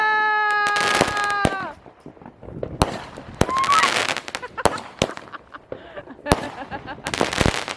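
New Year fireworks explode in loud sharp cracks and bangs at irregular intervals, with whistling rockets rising between them and voices reacting in the background.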